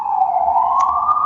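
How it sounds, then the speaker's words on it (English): An ambulance siren wails outside on a New York street near a hospital, a loud steady rising tone sounding alone without talk. "sorry, ambulance outside. I don't know if you can hear. It's New York."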